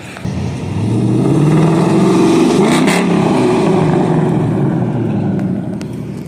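A Ford Mustang drives past on a street near a bus stop, its engine swelling to a loud, steady roar close by, holding for several seconds before fading away.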